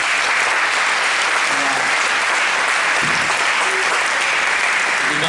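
Audience applause at the close of a public evening talk session in Montpellier, a steady, dense clapping from a full room that continues loudly and evenly throughout without pause.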